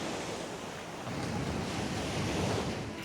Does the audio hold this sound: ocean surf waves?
yes